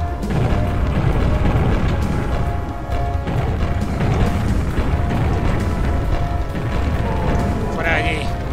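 Rocket launcher blasts and explosions in the Quake expansion Dissolution of Eternity, dense booming roars and crashes layered continuously over game machinery hum, loud and close throughout.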